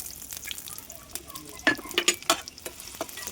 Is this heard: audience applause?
no